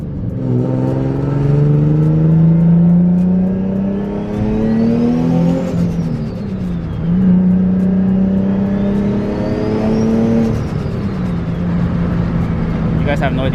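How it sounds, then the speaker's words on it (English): A turbocharged Nissan 350Z with a VQ engine revs up and down in two long sweeps, each climbing pitch followed by a falling whoosh, with a rising turbo whine riding over the loud, close exhaust drone. "I'll definitely give you guys some boost noises."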